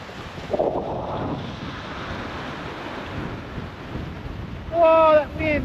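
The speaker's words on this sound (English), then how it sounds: "Whoa, that wind." Strong wind roars and buffets the microphone in snowy mountain country near Kanangra-Boyd, a broad steady rush that swells near the end as a voice exclaims.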